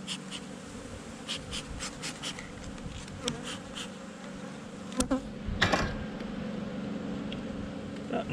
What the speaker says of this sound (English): That's a fair amount of bees.